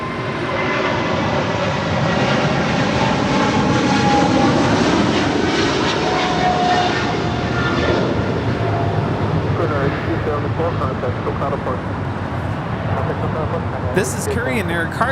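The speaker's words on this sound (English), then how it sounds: "This is Korean Air Cargo 8274 departing to Seoul on a 777 freighter." Korean Air Cargo Boeing 777 freighter departing from Los Angeles International Airport: a sustained loud jet engine roar with broadband rumble and whine, under a voice talking throughout.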